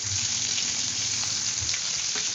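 Cardamom, a bay leaf, cumin, ginger and garlic sizzle in hot oil for a Punjabi-style chicken gravy, giving a steady, close, even frying hiss that lasts throughout with no talking.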